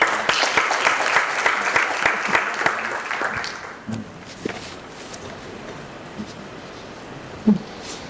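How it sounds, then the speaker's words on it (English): An audience applauds Professor Jackson at an academic lecture, a dense burst of clapping that tapers off after a few seconds into quiet room noise with scattered footsteps and shuffles. "please join me to welcoming and applauding Professor Jackson"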